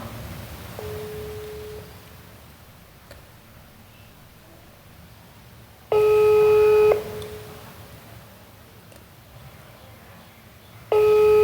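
Phone tones play during a call to a customer: a faint tone early, then two loud, steady electronic ringback bursts about five seconds apart over a quiet room.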